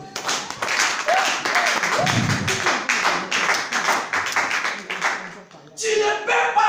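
A church congregation claps and cheers in rapid uneven bursts, close and lively, with voices calling out among the applause and a louder swell near the end.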